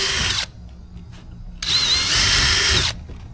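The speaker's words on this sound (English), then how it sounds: "Drilling all the way through now." A power drill bores through wood while building a wall easel. It runs in two loud, steady bursts: a short one, then a longer continuous whine after a pause, with no talking.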